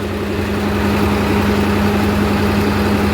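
A Swaraj 843 XM tractor engine idles steadily at about 1300 rpm at close range, a constant low rumbling drone with a droning hum and no change in pace throughout.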